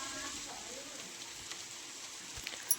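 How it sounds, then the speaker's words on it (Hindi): Light, steady rain falls outdoors on the first rainy day of spring, a soft even hiss with a few faint drips, quiet and continuous with no voices. "आज बारिश हो रही है"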